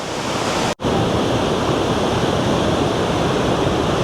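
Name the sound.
waterfalls at Krka National Park, Croatia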